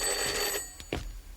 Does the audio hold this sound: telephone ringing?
yes